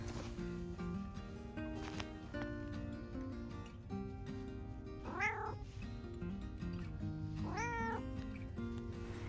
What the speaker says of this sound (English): I noticed Tiny meowing right outside the round pen.